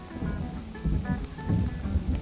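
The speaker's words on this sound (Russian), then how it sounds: "Я обожаю дождь, я обожаю гром" Steady rain ambience with low rumbling thunder swells from a website sound mixer plays continuously, moderately loud, with no talk.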